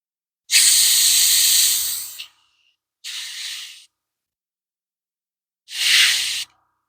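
Clear coat sprays from a spray can or airbrush onto miniatures in three close, loud hissing bursts: a long first blast of about two seconds, then two shorter ones separated by silence.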